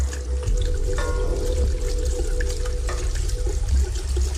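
Water running from a tap into a sink, a steady pouring and trickling stream heard close and loud for several seconds, used as a sound effect in a radio horror drama, with no talk.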